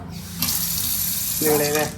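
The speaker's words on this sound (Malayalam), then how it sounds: "അടിപൊളിയായിട്ട് വെള്ളം വരുന്നപ്പോ രസം" Water from a newly fitted kitchen sink tap runs in a steady, full rush throughout. A voice is briefly heard near the end.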